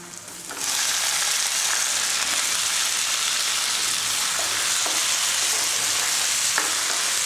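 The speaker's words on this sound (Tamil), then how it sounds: "தக்காளி நல்லா மசிஞ்சு வர வரைக்கும் நல்லா வதக்கி விடுங்க" Tomatoes sautéing in a pan for chicken salna, a loud, dense sizzle that starts abruptly and then holds steady, with a few faint stirring clicks and no voices.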